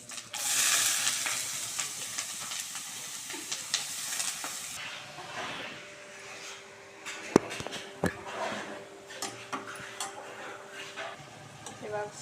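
Onion and curry leaves sizzle and hiss in hot oil for a tempering for jackfruit palya, with a loud burst of frying at the start, then steady crackling and occasional stirring clinks.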